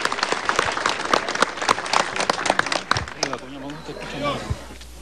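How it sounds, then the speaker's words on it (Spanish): Applause from a crowd welcoming a district mayor at a public event with the President of Peru in Pichari, Cusco region, loud, dense clapping that fades out near the end, with voices over it. "Recibimos con fuerte voto de aplauso a nuestro alcalde distrital, don Edilberto Gómez Palomino."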